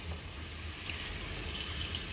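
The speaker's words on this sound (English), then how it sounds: "You want to continue running water in this" Water running steadily from a tap into the soil of an indoor potted plant, a continuous soft splashing trickle that stays even and close throughout with no talking.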